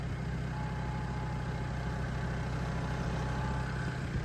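A dairy farm tractor with an automatic transmission sits idling, its low engine rumble steady and even for a few seconds, close and constant with no voices.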